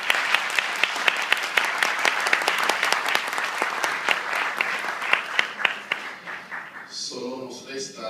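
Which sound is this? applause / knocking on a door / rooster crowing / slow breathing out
applause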